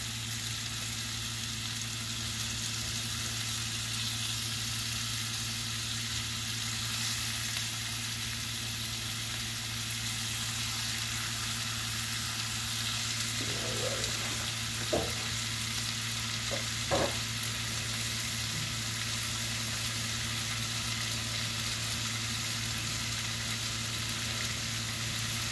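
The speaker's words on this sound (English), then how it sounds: "I'll just throw the bacon in there." Bacon frying in a pan on a stovetop gives a steady, even sizzle throughout, with a few brief clinks and scrapes partway through and no voices.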